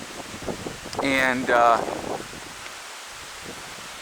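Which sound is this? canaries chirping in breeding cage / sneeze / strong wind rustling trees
strong wind rustling trees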